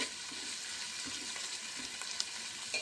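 Green chillies, onion and capsicum with masala fry in a pan as a quiet continuous hiss of oil, with a few faint stirring taps close by.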